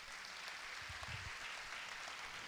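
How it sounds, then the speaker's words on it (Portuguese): Congregation applauding inside a church service, a steady wash of many hands clapping at even loudness throughout, with no voices over it. "Quem pode dar uma salva de palmas para o Senhor Jesus?"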